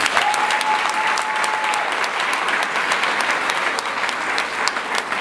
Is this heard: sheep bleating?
no